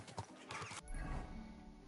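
Horse hoofbeats in Kingdom Come: Deliverance 2 clip-clop in a quick irregular rhythm for about a second, followed by a low rumbling thud, fairly close and moderately loud.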